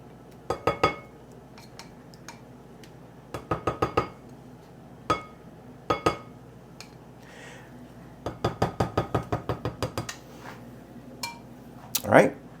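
Crab cake mixture gently stirred in a bowl, giving bursts of clinking and tapping against the bowl in several short groups, close and fairly loud with no talking.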